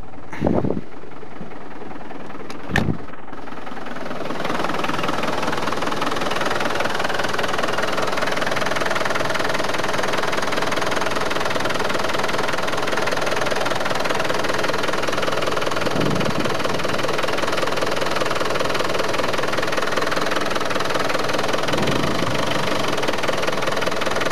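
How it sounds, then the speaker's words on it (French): Land Rover TDI diesel engine idling after a rocker arm adjustment, running steadily with an even, close rumble and faint rhythmic tapping for most of the clip after a couple of brief knocks at the start. "on va avoir un moteur qui va vraiment respirer beaucoup mieux, qui va tourner vraiment très rond"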